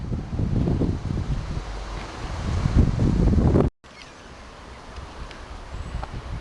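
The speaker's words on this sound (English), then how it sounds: "You can see by the trees how windy it is today." Strong wind gusts buffet the microphone outdoors at Pevensey Castle, a loud, rough roar that rises and falls for several seconds. After a short break it returns as a quieter, steady rush of moving air.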